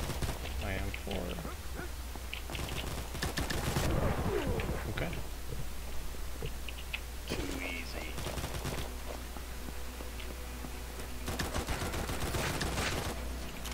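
An M4 fires in bursts of rapid automatic gunshots during the video game Combat Master, loud and near, with someone talking over parts of the gunfire.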